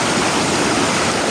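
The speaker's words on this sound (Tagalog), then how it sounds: "ilog na naman yung binabaybay natin, ilog. So, malakas na tubig at malamig." Strong, cold river water flows past, a loud and steady broadband rush that fills the whole moment with no voices.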